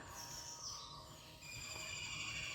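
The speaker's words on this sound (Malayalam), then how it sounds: "കിളികളുടെയൊക്കെ സൗണ്ട് കേട്ടോ" Several birds chirp and tweet at a distance in the morning, high thin calls repeating over steady quiet outdoor ambience, with no voices.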